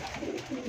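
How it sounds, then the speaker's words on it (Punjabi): A red-band pigeon gives a soft, low coo, brief and faint, heard close with no other sounds around it. "ਸੁਰਖਾ ਪੱਟੀ ਵਾਲਾ ਕਬੂਤਰ, ਆਊਟ ਕਲਾਸ ਕਿਸਮ ਦਾ ਮਾਸ਼ਾਅੱਲਾ ਸੁਰਖਾ ਕਬੂਤਰ"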